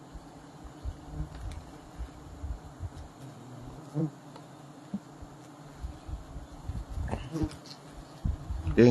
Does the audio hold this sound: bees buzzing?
yes